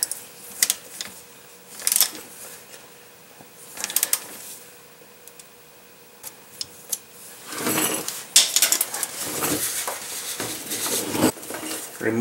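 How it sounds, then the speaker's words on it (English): Metallic ratcheting and clinking of tools working bolts loose from the transmission pan of a Mercedes-Benz 722.6 five-speed automatic, in irregular close bursts that grow busier toward the end, with some voice underneath. "Remove the bolts that hold the transmission pan in place"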